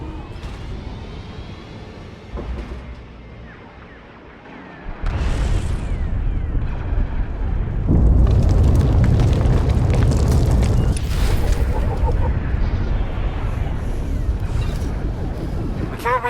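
Starship weapons fire and explosions in Star Wars: The Old Republic: a low rumble builds, then a loud, dense burst of booming blasts and crackling debris that stays intense and sustained to the end.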